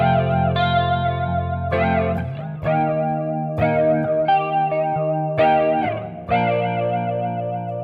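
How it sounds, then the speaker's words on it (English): An electric guitar with an AI-generated tone and plate reverb plays a series of ringing, distorted chords with a wobbling modulation, each chord sustaining into the next across several strikes. "I'm going to try plate reverb."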